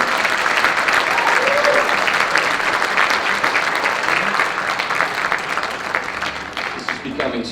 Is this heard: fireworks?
no